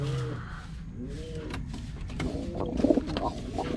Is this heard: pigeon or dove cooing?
yes